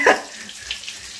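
Water is poured off cooked rice in a home kitchen, a brief splashing gush at the start followed by faint trickling and dripping, with no voices.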